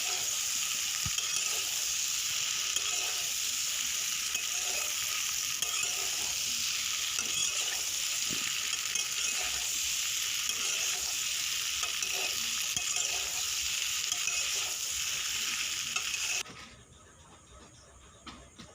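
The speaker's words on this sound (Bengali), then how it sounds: "এবার এটা আবারও নাড়াচাড়া করব একদম মিডিয়াম ফ্লেমে" Pasta sizzles in a pan over a medium flame while being stirred, a continuous hiss with soft repeated scrapes and taps, close and even, ending abruptly as the sound drops off.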